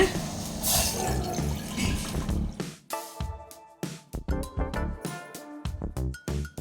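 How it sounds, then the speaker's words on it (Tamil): Water is poured into a tumbler to start a betel leaf and tulsi decoction for dry cough, a close, bright splashing stream followed by clinks and small drips as the pouring tapers off. "1 டம்ளர் தண்ணி ஊற்றிக்கலாங்க."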